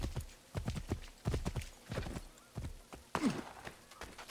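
A horse in Assassin's Creed III clops along with steady, evenly spaced hoofbeats, close and clear, then lets out a short whinny near the end.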